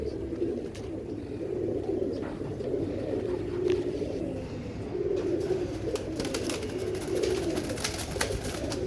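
A female Teddy pigeon of an old breed coos steadily in a low, throaty murmur, close and continuous with repeated rolling phrases, faint chirps from other birds in the background.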